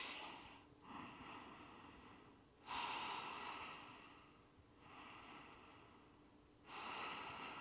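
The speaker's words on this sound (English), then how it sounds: "Several deep breaths here." Slow, deep breaths during a yoga stretch in a power flow class, breathy and close, alternating long inhales and exhales in a steady rhythm with no talking.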